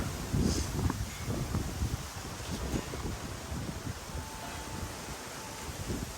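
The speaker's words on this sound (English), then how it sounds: "Man, it's windy out here today." Gusty wind buffets the microphone outdoors, a rumbling, uneven roar with rustling texture that rises and eases throughout.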